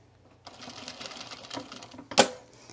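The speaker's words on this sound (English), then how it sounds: "And then we will sew it." A sewing machine stitches a fabric tool belt in a quiet room, a steady mechanical whir running for about two seconds before a sharp, louder clack near the end.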